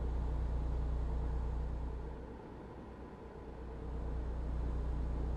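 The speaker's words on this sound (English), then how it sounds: "I know the truck sound can get a bit much sometimes" Steady low truck engine drone in a video game, a constant rumbling hum that dips briefly in the middle before returning, heard alone without talk.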